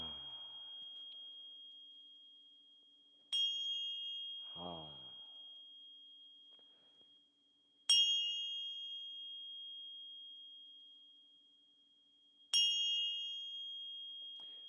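Meditation bells at dawn strike three times at even intervals, each a clear, sharp ding with a long, steady ringing sustain, separated by near silence and a brief low voice.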